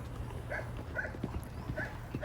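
Horse hooves trotting on a long ride after training, a quick regular clip-clop of fairly close footfalls repeating evenly over a low steady background.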